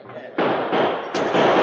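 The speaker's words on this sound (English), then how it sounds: "Those shots were a warning." Warning gunshots in a vintage radio western drama set in the Yukon, three loud sharp blasts in quick succession, each ringing out briefly before the next.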